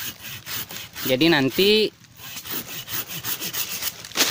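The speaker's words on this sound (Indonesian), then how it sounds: "jadi sekarang kita pangkas pakai gergaji" Hand saw cutting through a cocoa tree branch during pruning in a plantation, rapid rhythmic rasping strokes close by, with someone speaking briefly over the sawing.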